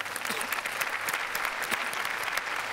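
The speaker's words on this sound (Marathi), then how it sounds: "जोरदार टाळ्या" A studio audience at a Marathi comedy show claps loudly and continuously, a dense close burst of applause that holds steady throughout.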